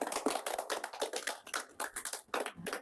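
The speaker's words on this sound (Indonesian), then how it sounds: "Kita berikan tepuk tangan untuk" Group clapping in a counseling session room, quick irregular hand claps from a small group, quiet and slightly distant, continuing without talk.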